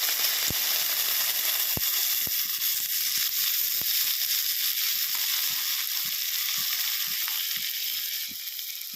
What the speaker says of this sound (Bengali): আমি তেল দিয়ে দেবো। চিংড়ি মাছ এবার ভেজে নেব।